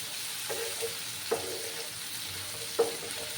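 Taro stolons frying in a pan with turmeric powder, giving a steady low sizzle broken by three brief scrapes of stirring, quiet and close with no voices.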